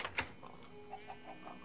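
Chickens in Minecraft, played on PS3, make a few soft, faint clucks in a quick irregular series under a quiet background hum.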